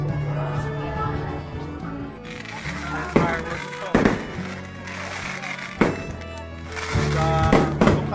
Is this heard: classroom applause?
no